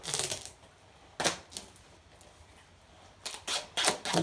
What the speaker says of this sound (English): we're going to get this thing taped up